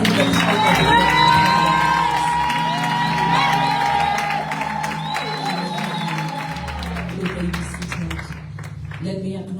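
A church congregation at a Sunday service claps, cheers and whoops in honor of a minister, loud at first and then gradually thinning out over several seconds, with voices in the crowd.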